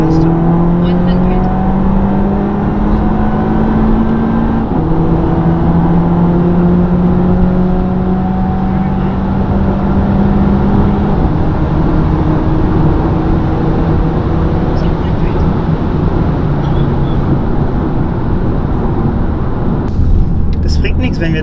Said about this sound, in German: Aber wir probieren mal so gediegen anzufahren. Erste, zweite, keine Chance.